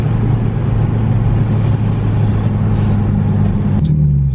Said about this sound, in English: So right now you're just driving it in manual mode, right?